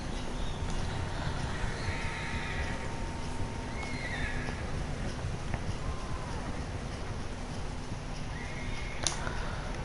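A horse galloping in the Red Dead Redemption video game, with steady hoof and movement noise running throughout, a few brief whinny-like cries, and a wind-like hiss underneath.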